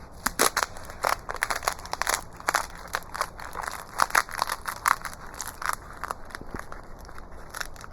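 Dry loofah skin cracks and peels away from the sponge inside, a close, loud series of crisp crackles and crinkling snaps in irregular bursts, with no talk.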